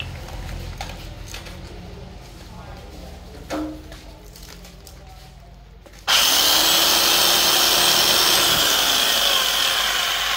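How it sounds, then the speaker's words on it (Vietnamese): A used reciprocating saw at a secondhand tool market starts up after quiet handling clatter, running loud and steady with a dense buzzing roar for the last several seconds. "Con cưa kiếm."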